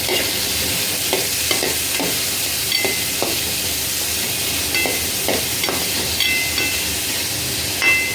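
Tomato and coconut are sautéed in a pan, giving a loud, close sizzle with frequent rhythmic spatula scrapes and stirs, and no talking.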